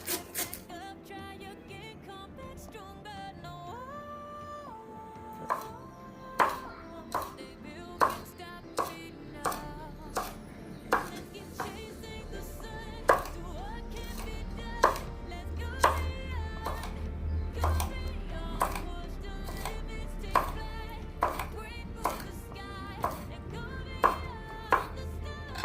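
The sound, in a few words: chopping leeks, carrots and cabbage small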